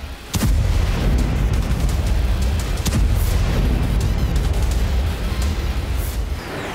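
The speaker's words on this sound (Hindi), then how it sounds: "रूस ने Su-34 से बमबारी करके यूक्रेन के खेमे में कहर बरपा दी।" Explosions from a Russian Su-34 bombing in the Kursk area: a sharp blast opens into a sustained, loud rumbling roar with scattered booms and cracks, and no voices.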